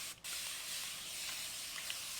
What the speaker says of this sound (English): So you just spray it like this and it feels really good.